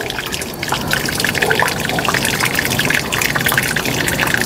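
Water runs from a pipe while a non-return valve is being fitted onto the live line: a loud, close, continuous splashing trickle that stays steady throughout.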